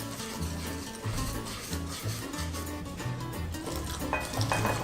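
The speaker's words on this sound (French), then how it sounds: "on va incorporer le lait un petit peu pour commencer" A whisk beats milk into crepe batter in a bowl, giving brisk, rhythmic scraping strokes that repeat steadily, close and fairly loud, with a tonal backdrop running underneath.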